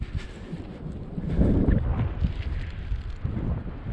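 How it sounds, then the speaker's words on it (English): Wind buffets the microphone on a beach at Neeltje Jans in Zeeland, the Netherlands, as a steady low rumbling roar that swells and eases, with no voices present. "there's a bit of wind"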